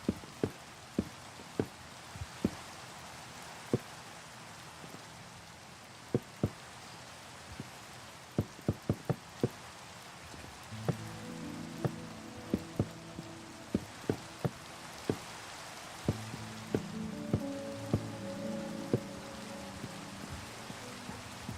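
Steady rain from a Minecraft-style game world patters continuously, with sharp clicks and brief tonal blips from game sounds scattered over it, no voices.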